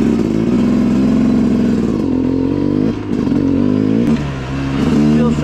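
A Yamaha YZ450FX dirt bike engine revving up close, loud and raspy, holding a steady throttle then dipping and surging again in repeated pulls, with a brief lull near the three-second mark.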